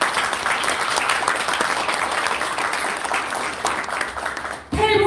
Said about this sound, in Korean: 우리 손명화 대표님께 박수 한번 보내주시기 바랍니다.